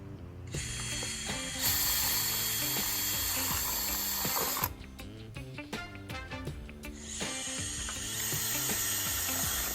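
A power drill pre-drills holes for installing an Andersen LuminAire retractable screen door, the motor whining steadily with bursts of bit chatter, pausing briefly midway before spinning up again, close and loud.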